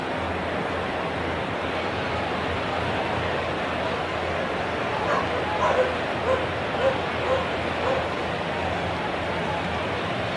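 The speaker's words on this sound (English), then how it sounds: "when you hear the barking in the background" A dog barks and yips a few times in the distance during a live baseball play-by-play broadcast, partly buried under a steady wash of background noise.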